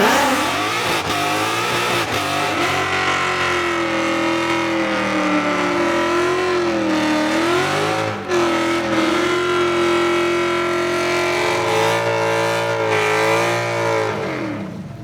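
Ford Mustang S550 with a 5.0-liter V8 revs hard at a Mustang car show competition, a loud sustained engine roar rising and falling through repeated throttle sweeps for about fifteen seconds, close to the microphone.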